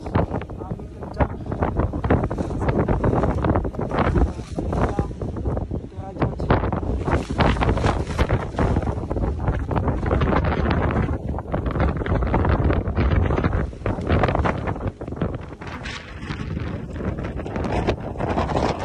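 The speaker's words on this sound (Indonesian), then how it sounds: "angin kencang" Strong wind roaring across a high mountain summit, a loud, continuous buffeting rush battering the microphone for the whole stretch, with faint voices buried beneath it.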